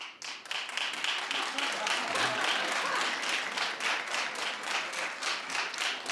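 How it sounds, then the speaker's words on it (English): A studio audience claps in a steady rhythm, each clap cleanly separated in a regular beat that keeps going throughout, with some voices faintly underneath. "But clap if that's your kind of guy."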